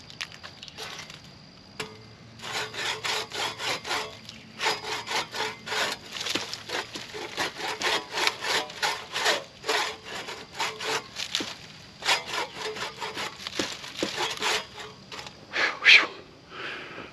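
A manual saw cutting through wood in an outdoor setting, a close, steady series of rasping back-and-forth strokes in an even rhythm that runs for most of the stretch before a brief pause.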